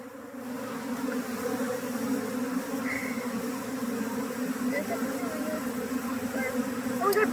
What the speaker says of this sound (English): you have like four bees on your head that I can see